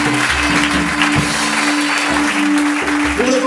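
An audience in a church service applauding and cheering loudly, a dense, steady wash of clapping with voices mixed in throughout.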